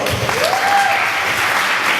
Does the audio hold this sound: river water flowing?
no